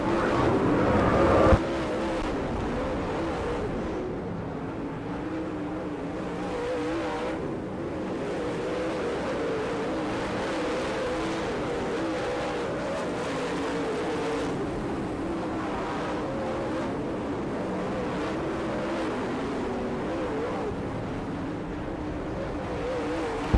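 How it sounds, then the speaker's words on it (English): Late model race cars roar around a dirt track at Gibsonton, Florida in a steady, dense engine drone that rises and falls slightly as the pack passes, heard from a distance and continuous throughout. "Rick Eckert has raced from that 20th starting spot up into the top five"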